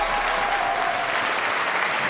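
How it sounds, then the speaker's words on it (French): Loud, dense applause from a crowd at the French national robotics cup finals after a match ends, continuous and even with no break. "on les applaudit bien fort"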